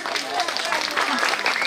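Audience applause fills a debate show hall, a broad steady wash of clapping from a crowd lasting under two seconds, loud and close, mixed with a voice talking.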